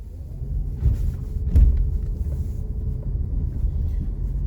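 A car pulls away from a parked position along a street on a driving test route, with low engine rumble and road noise heard from inside the cabin, steady and moderately loud.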